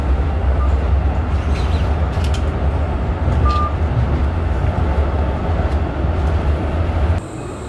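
Loud, steady rumble of a Prague metro train running underground, with a brief beep partway through, before the noise suddenly drops off near the end.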